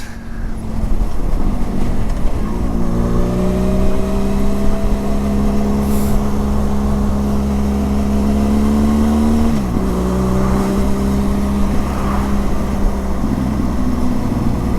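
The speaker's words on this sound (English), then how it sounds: "Titanium exhaust, which does sound very nice." A Benelli TRK 502X motorcycle with a titanium aftermarket exhaust runs loud and close, its deep exhaust note rising through revs with a brief dip and climb again midway.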